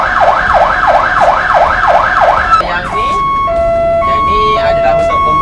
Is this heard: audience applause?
no